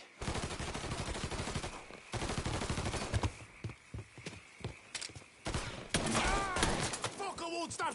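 Rapid automatic gunfire from the video game Mafia rattles in dense bursts, interleaved with loud shouted voices and thumps.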